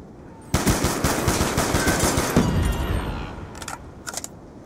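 Automatic gunfire in Black Ops 2, a long, loud sustained burst of rapid shots followed by a couple of shorter bursts, with no talk over it.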